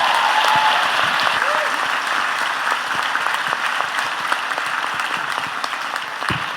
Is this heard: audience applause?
yes